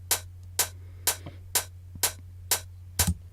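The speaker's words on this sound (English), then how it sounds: "I've layered them together and sounds like this" Two hi-hat tracks from a music production session, one a simpler with an open hi-hat, layered together: seven crisp bright hits evenly spaced about every half second over a low steady hum, the last hit doubled.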